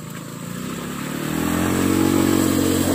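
An off-road motorcycle accelerating along a village trail in Borneo, its engine revving up loud and close with a rising buzzy drone over three seconds.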